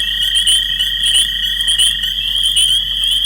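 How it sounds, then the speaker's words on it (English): Spring peepers calling loudly in a dense night breeding chorus, shrill repeated peeps layered into a continuous, pulsing high wall of sound, close and unbroken, with no talking. "And the peepers are really loud."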